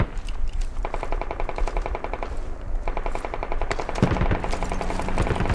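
Automatic weapons fire in the Squad military shooter game, with rapid machine-gun bursts that start, pause and resume, plus a louder, heavier burst near the end, all close and intense.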